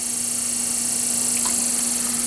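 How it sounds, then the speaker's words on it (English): A large GE desk fan runs with a steady hum and airy whoosh while loose tape on the blades faintly ticks against the shroud, heard up close without talk. "That noise is the tape hitting the shroud."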